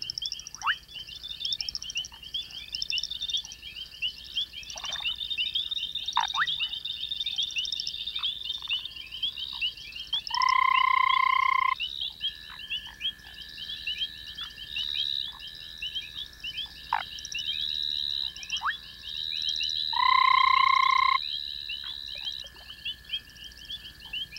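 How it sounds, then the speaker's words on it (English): Foam frogs call from a tree above a pond in a dense, continuous chorus of croaks and chirps, with two louder, sustained bursts standing out from the steady background; no one speaks. "In a tree over the pond, a pair of foam frogs are making their nest."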